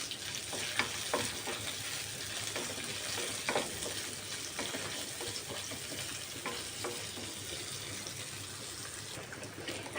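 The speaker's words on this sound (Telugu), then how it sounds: "ఆయిల్ హీట్ ఎక్కిన తర్వాత 1 స్పూన్ ధనియాలు, 3 ఎండుమిర్చి, సన్నగా కట్ చేసుకుని ఆనియన్స్, ఇవన్నీ కొంచెం ఫ్రై చేసుకోవాలి." Coriander seeds, dried red chillies and finely chopped onions fry in hot oil with a soft, steady sizzle. Light stirring and scraping clicks recur throughout, fairly quiet and close, with no talking.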